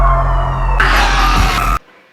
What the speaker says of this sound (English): The intro has like these old broadcasts and police sirens